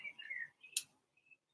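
A few faint, quick bird chirps and tweets come in short bursts near a river, with one sharp click partway through and quiet gaps between calls.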